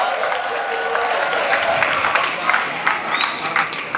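A crowd of students and staff claps at a school flag ceremony and new-student orientation, moderately loud applause with individual sharp claps standing out, continuing throughout.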